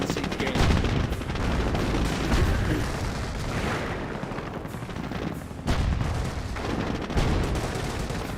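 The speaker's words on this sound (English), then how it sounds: "Vickers emplacement does fire away a little bit" A Vickers machine gun emplacement fires in Company of Heroes with sustained bursts of rapid gunfire mixed with distant battle booms, loud and continuous throughout.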